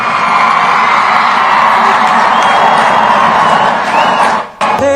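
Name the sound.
stadium crowd cheering and clapping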